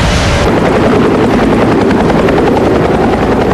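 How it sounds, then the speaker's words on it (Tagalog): A Japanese forces rescue helicopter comes in to land, its rotor chopping loudly and steadily throughout, close and dominant with no voices over it. "Bawat paglapag ng rescue helicopter ng Japanese forces, pag-asa ang dala."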